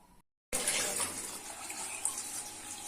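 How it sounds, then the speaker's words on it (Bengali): Uncooked Atop rice being rinsed in water, a steady splashing, sloshing wash close by after a brief silent gap at the start, with no voice over it. "এইভাবে একটু ধুয়ে নিতে হবে কারণ চালের মধ্যে অনেক নোংরা ধুলোবালি থাকে"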